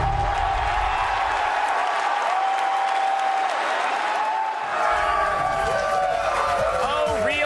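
A large crowd cheers and applauds loudly at the E3 reveal of The Legend of Zelda: Twilight Princess, a steady roar that keeps going, with whistles and shouts rising toward the end.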